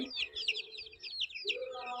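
Peru cross chicken chicks cheep close by in a rapid run of high, thin peeps, with a soft, lower clucking sound near the end.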